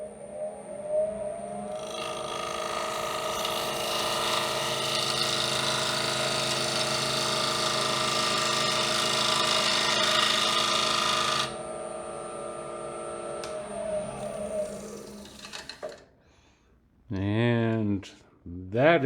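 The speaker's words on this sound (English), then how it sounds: "Now I'm going to take this little maple wedge and see if I can burn this line, this groove that I got in there." A small maple wedge presses against a spinning maple bowl on a wood lathe, producing a steady, high, whining friction drone with a motor hum beneath, followed by a quieter stretch and a brief spoken voice.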